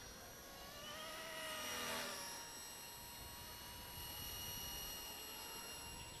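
A Blade 230S V1 RC helicopter flies steadily nearby, giving a continuous high whine from its motor and rotor with a brief swell in loudness as it passes, heard alone without voices.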